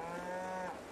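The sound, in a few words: cows mooing in a farming video game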